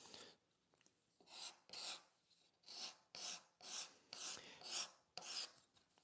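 A wood rasp files a table leg in about nine rhythmic strokes, each a bright scraping rasp with short pauses between, close and fairly quiet, and no talk.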